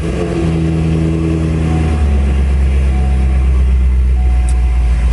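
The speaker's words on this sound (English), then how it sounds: "we'll start it. Everybody likes a cold start." A C6 Corvette engine on a cold start, loud and close, settling into a steady deep idle with a high fast-idle tone that drops after a couple of seconds.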